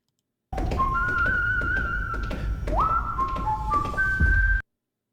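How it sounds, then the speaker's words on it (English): Someone whistles the Star Trek theme, a melody with sliding, sustained notes over a loud, steady rumbling background that keeps going throughout. "somebody in Star Trek whistling the Star Trek theme"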